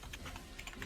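Quick keyboard typing, a handful of light clicking keystrokes in an irregular patter, faint and close against a quiet background.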